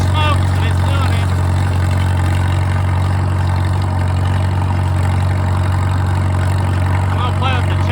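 A Farmall tractor engine running on used oil idles steadily, a loud continuous low throb with a constant rhythm and occasional puffs, close to the listener.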